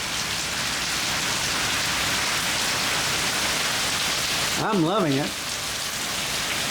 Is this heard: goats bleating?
no